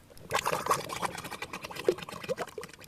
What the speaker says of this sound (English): I look at this bubbling to the top